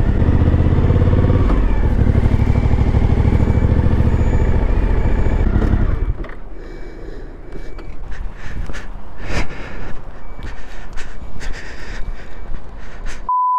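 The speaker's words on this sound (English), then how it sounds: "there's a lot more trucks around, which is a good sign" Heavy trucks idle and rumble at a ferry port. A loud, dense engine drone fills the first six seconds, then drops to quieter traffic with scattered hisses and clanks, and a brief tone near the end.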